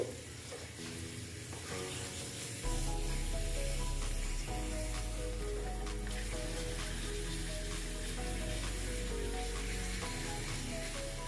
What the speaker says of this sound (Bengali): এইভাবে আমি বেশ এক দুটো পাঁপড় ভেজে নিচ্ছি